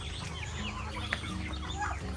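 Farmyard chickens cluck and murmur close by in a continuous, overlapping chorus over a low background hum.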